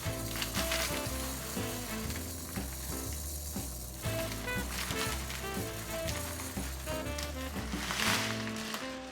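Rice and dal toasting dry in a pot for Bengali bhog khichuri, a steady rattling, scraping stir with a faint sizzle over continuous background music.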